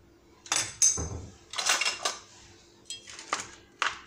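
A potato mixture with egg, cumin, black pepper, paprika, cheese and a little butter is stirred in a bowl, giving a few separate bursts of clinking and scraping utensil-on-bowl sounds with quiet pauses between them.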